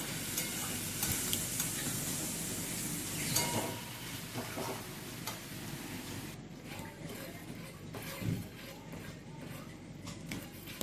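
Fish oil chorchori being stirred and tossed in a frying pan, with a soft continuous sizzle and intermittent scraping and clinking of the spatula against the pan, close and moderately quiet.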